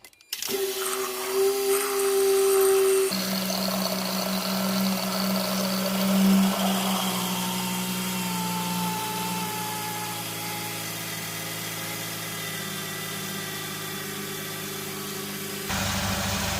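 A Dodge Caravan minivan engine runs steadily at idle, a constant droning hum with a slight rise in pitch partway through, close and unbroken.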